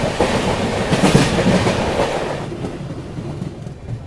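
An Azimabad Express train runs along the tracks on a monsoon journey through the Darrah Ghats. It makes a steady, loud rolling rumble with wheel clatter that eases slightly toward the end.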